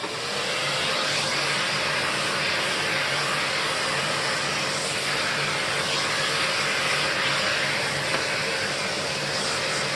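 A one-speed vacuum cleaner runs continuously during an airflow and suction test, a steady, loud whooshing motor drone with an even hum, close by and alone without talk.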